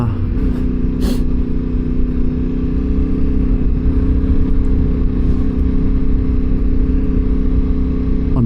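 A Yamaha Tenere 700 adventure motorcycle cruises through a canyon with a loud, steady engine drone and rumbling low hum, heavy wind buffeting, and one brief sharp click near the start.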